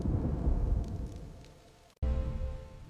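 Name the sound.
thunderstorm with rain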